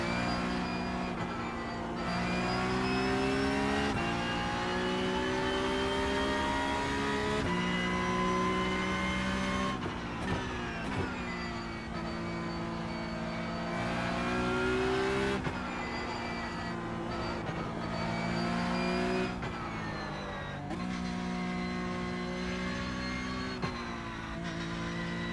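Race car engines in a racing video game on a new track, a loud tonal engine note that climbs through the gears, with sharp drops at each shift and repeated lifts and re-accelerations through corners, heard alone without talk.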